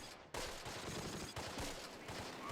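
Gunfire in the WWII tactics game Close Combat: The Longest Day, with dense overlapping rifle and machine-gun bursts in a steady rattling fusillade that starts abruptly and runs loud to the end.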